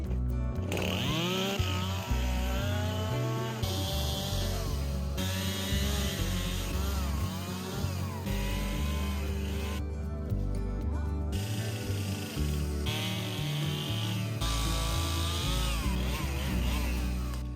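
Chainsaw cutting thick tree branches into firewood, engine droning loudly and steadily for the whole stretch with pitch shifts as it bogs and revs, close by with no talk.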